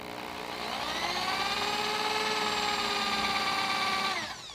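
A power drill bores into a piece of wood held down with a C-clamp while building a rustic wall niche, its steady high-pitched whine running loud and continuous for about four seconds before spinning down.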